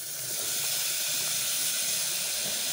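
Tomatoes hit a hot pan holding a frozen piece of kothmir paste, giving a steady, loud broadband sizzle and hiss that holds unbroken from start to finish, close by and with no talking.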